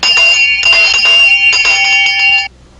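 A cartoon alarm bell ringing loudly in a king's palace, set off when a brass monkey is moved, in three rapid clanging bursts of bright metallic ringing before it cuts off.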